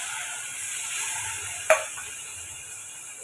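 Chicken gravy with ground paste and water sizzles and is stirred in a pan: a steady, close frying hiss with one sharp clink of a utensil against the pan midway, and no talk.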